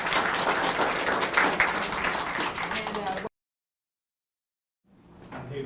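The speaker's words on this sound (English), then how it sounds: "let's give them a round of applause again" Lively audience applause at a College of Education event, dense clapping with some voices underneath, cutting abruptly to silence before fading back in toward the end.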